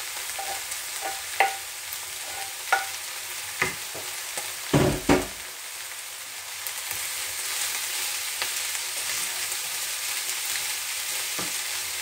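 Leftover lechon frying in a little oil, a steady close sizzle with several sharp clacks and scrapes of a utensil against the pan, no voices.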